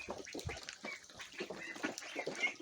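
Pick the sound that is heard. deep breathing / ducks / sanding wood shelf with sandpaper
ducks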